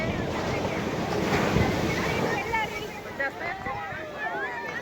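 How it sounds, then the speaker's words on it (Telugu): Rough sea waves surge and crash onto the shore in a continuous loud roar, with wind buffeting the microphone and a faint voice in the mix. "ఎంత అలల్ని చూడండి చూడండి"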